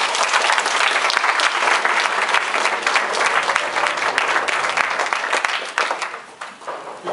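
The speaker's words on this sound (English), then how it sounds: "Please give them a warm applause." An audience at a talk on Warsaw and post-socialist city projects applauding, dense sustained clapping that fills the room and thins toward the end.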